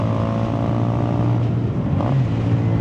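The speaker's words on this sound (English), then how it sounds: "I love the downshifts on this bike." A KTM 390 Adventure motorcycle engine drones loud and close, with brief shifts in pitch as the rider changes gear down.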